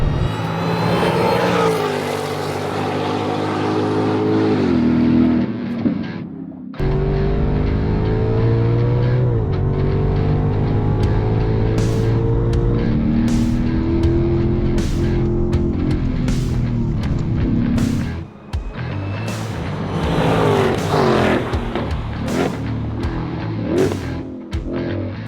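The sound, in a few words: 2025 Ford Mustang GTD driving on racetrack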